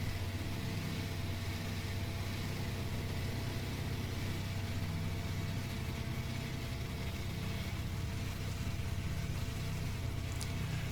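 A DC-3 airliner's engine runs after start-up in X-Plane 12, giving a quiet, steady, even drone with no talking.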